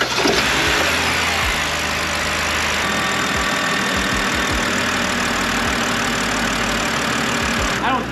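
A running car engine idles steadily throughout, a continuous low rumble close by with a few brief low thumps and knocks over it, while a car is being checked in a home garage.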